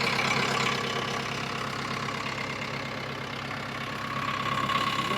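Steady close idling of a JCB machine's engine, an unbroken mid-pitched rumble with a faint rhythmic knock and rattle from a loose silencer bolt, with no talk.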